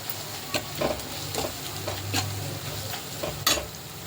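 Masala mixture for hotel-style Bombay aloo bhaji being stirred in a hot pan, a soft steady sizzle broken by scraping strokes of a spoon, close and fairly quiet, with no voices.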